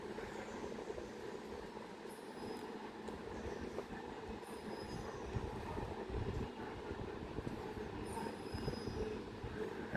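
A Southeastern passenger train on the London Victoria to Ashford International service runs through Swanley station, a continuous rumble of wheels on rail with faint squeals, heard at moderate distance without talk.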